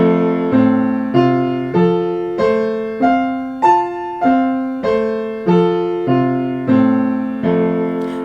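Solo piano plays a steady, repeating broken-chord pattern with an inversion over the top, each arpeggio rising evenly, about one group per half second, clear and close with no voices.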